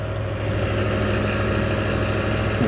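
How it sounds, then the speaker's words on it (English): A 1994 Ford Bronco full-size V8, running without its wide-open manifolds, idles steadily and close by with a low, even rumble and no talk. "It still sounds like a V8"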